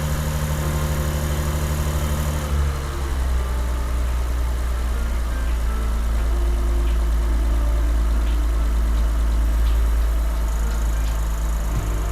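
Lexus RC 350 F-Sport engine idling just after a Takeda cold air intake install, with a steady, loud low hum and a constant tone while the throttle body settles.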